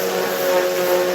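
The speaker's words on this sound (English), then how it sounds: "can you hear me talk while I'm sanding? Or is the sanding too loud?" Power sander running on a wooden bandsaw box in a workshop, a steady loud whirring hum with a strong constant tone and no breaks, no talking.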